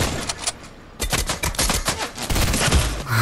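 Gunfire in Fortnite rings out in rapid bursts of sharp, loud shots, some clustered like automatic fire with brief pauses between volleys.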